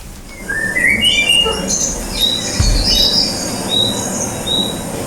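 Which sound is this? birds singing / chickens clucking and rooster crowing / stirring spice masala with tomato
birds singing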